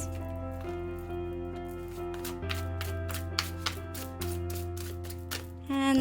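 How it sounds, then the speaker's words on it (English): A new matte-finish Botanica tarot deck being shuffled by hand, a quiet run of soft rapid card taps and riffling bursts close up, with no talking. "they shuffle pretty smoothly this way as well"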